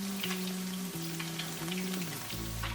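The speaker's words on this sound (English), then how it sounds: "you go ahead and put chicken pieces in there" Chicken pieces fry in hot oil, a constant crackling sizzle with scattered pops under a low steady hum, close and fairly quiet throughout.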